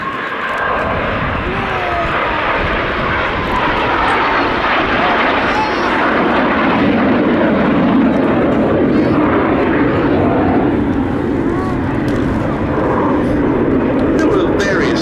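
BAC Strikemaster jet with uprated Rolls-Royce Viper engines flying a display at Duxford air show, a loud broad roaring rush that swells and sustains throughout, with a voice talking over it.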